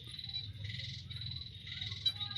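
A pet frog croaks softly at night in a quiet indoor setting, a faint, low, continuous rattling call under a steady high insect-like hum, with no voices.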